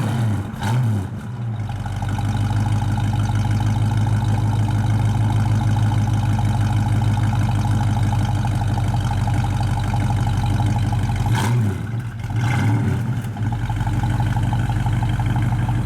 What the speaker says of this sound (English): Nice dual exhaust, just gives it enough rumble.